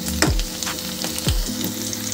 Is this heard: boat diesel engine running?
no